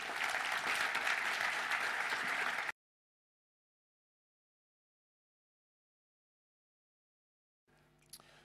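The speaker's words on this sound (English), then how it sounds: "May I have a warm round of applause for Reggie Middleton." About three seconds of warm applause from a conference audience for the speaker Reggie Middleton, dense and even, followed by a long stretch of silence and then a faint clatter at the very end.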